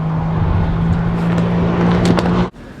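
A 2012 Chrysler 300 SRT8 drives downhill on a race track, with a loud, steady engine drone and rushing road and wind noise that ends in an abrupt cut.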